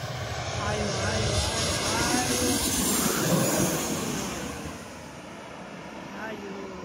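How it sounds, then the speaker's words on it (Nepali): A large airplane passes close overhead at Itami Airport in Osaka, its loud, broad engine roar holding steady, then easing a little toward the end. "आयो यो ठुलो प्लेन छ, हेर्नु होला।"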